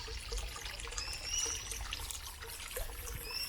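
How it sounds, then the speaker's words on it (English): Water trickles and babbles steadily over a creek bed, a soft, continuous outdoor flow with light splashy detail and no talking. "you want to hear the goodness of this particular creek bed"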